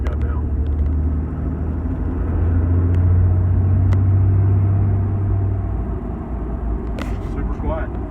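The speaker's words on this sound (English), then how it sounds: "I'm gonna lug it in 5th gear right now" A truck with a G56 manual transmission lugs along in fifth gear, giving a steady low engine drone and rumble throughout, with someone talking over it.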